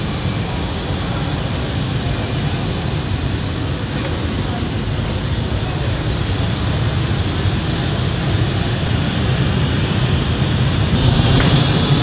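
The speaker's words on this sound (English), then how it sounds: "this is the legendary Wembley Arena testing the PA, so that's why the jet sound" A jet engine sound effect is played through the PA system of Wembley Arena during a sound check, a loud continuous roar filling the hall for the whole span, with no clear talk.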